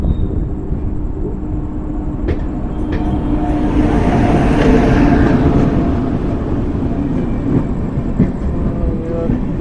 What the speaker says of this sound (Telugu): చూడండి ట్రైన్ వస్తుంది.